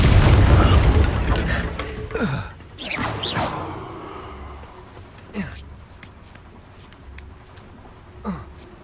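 Bombarda spell from a wizard video game: a loud, deep blast at the start that rumbles and fades, followed by whooshing sweeps and a few quieter pops.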